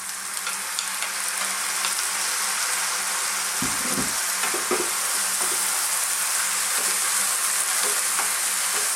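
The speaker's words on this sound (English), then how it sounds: "I'm now going to introduce our dal, our cooked dal or lentils." Cooked lentils for a carrot and lentil dal curry go into a hot pan with a steady, bright sizzle, broken by a few low thuds and scrapes of stirring near the middle, with no voices.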